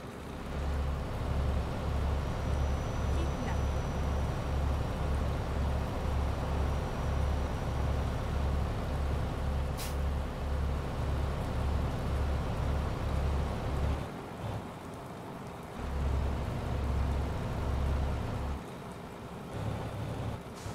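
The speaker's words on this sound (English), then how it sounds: "Still raining" Steady rain hisses and patters on the surface in a Euro Truck Simulator 2 drive, with a rhythmic low thumping beneath that pauses briefly and resumes; no voices.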